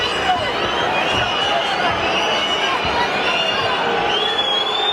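A boxing arena crowd at Roy Jones Jr vs Julio Cesar Gonzalez reacts to a slow round with a steady, broad murmur and restless noise, under a ringside commentator's talk.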